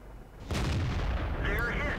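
A sudden heavy boom from a tank cannon in World of Tanks at the half-second mark, followed by a sustained rumbling roar and a faint high whine near the end.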